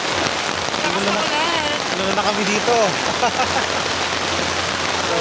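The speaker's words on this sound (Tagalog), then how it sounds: "Ito actually ngayon malakas na rin ulan." Heavy rain pours steadily on a campsite cabin resort, a loud dense hiss throughout, with people talking briefly under it.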